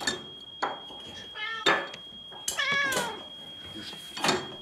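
A cat meowing in a Chernobyl drama, several distinct close meows with a clear tonal cry, mixed with clinking dishes and cutlery and a steady high whine in the background.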